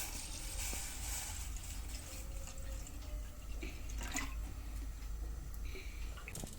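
About a litre of water poured into a pan for the sugar syrup of gulab jamun, a steady, soft splashing and trickling with faint dripping over a low background hum, no talk.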